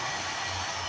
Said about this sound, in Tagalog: gagana na yung motor na hindi natin ino-on. Dahil meron siyang sensor.